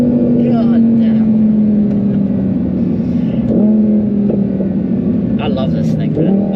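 Audi R8 V10 Plus with an aftermarket exhaust in sport mode, a loud steady engine drone with rising revs and bursts of acceleration, heard from inside with people talking over it.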